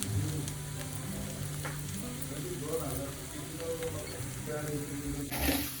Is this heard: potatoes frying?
yes